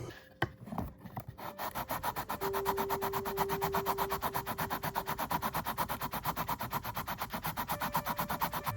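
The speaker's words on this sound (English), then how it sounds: "I busted out an orbital sander, and now one side is much lower and slanted" An orbital sander works on an acrylic electric piccolo guitar body, giving a steady, close, buzzing rasp that starts after a few scattered knocks and keeps a fast, even vibration throughout, with no talking.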